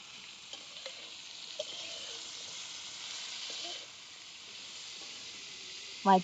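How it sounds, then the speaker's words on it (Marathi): Faint oil sizzles and crackles quietly as wet cashews roast in a flat pan with a drop of oil, outdoors, with occasional soft scraping of stirring and a brief clink at the end. "आता जरा आहे ना मी तव्यामध्ये त्याला पण भाजून घेणार आहे"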